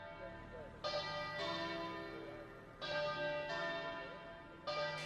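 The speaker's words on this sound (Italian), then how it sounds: "il silenzio rotto dal suono delle campane" Church bells ring at a funeral in Anguillara Veneta, with several clear, resonant strikes that decay slowly between them at a steady distance.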